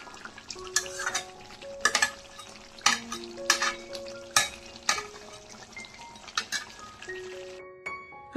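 Meat cooks in a frying pan in a home kitchen. Irregular, bright metal clinks and scrapes of a spatula against the pan ring out over a faint background sizzle, and no one talks.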